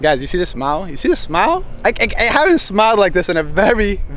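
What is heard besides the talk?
No distinct noise like a dog, phone or traffic.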